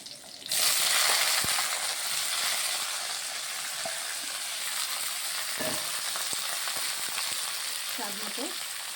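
Beans and eggplant drop into hot oil with cumin and chili, bursting into a loud, bright sizzle that settles into a steady close crackle with occasional stirring knocks.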